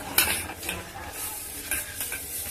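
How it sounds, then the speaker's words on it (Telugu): A spoon stirs junnu powder mixed with jaggery in a bowl, making soft continuous scraping and swishing with a few light clinks, close and fairly steady. "జున్ను పౌడర్ కలుపు. మా స్పూన్తో కలుపు."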